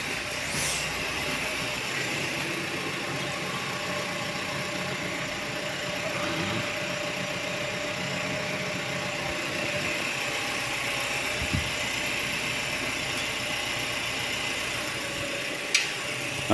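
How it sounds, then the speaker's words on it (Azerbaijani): A car engine idles roughly with one cylinder misfiring, a steady mid-pitched running drone lasting throughout, with a couple of brief clicks and knocks near the end. "Maşın pis işləyir, ikinci silindir yaxşı işləmir"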